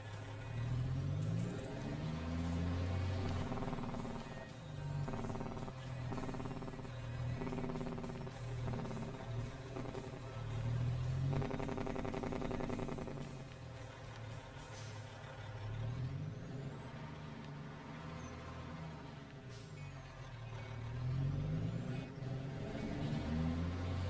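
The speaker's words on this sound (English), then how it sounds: "They're nice sounding trucks." Big trucks in Farming Simulator 25 rumble at idle with a deep diesel drone, punctuated by several sharp hissing air-brake releases and gentle revs rising and falling, close by, with no voices over them.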